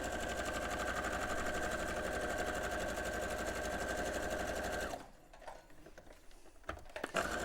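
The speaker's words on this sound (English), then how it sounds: "I'm going to put them right sides together, and I'm going to sew around that" A sewing machine runs fast and steady, stitching a quarter-inch seam around quilt pieces, then stops abruptly, leaving quiet handling sounds.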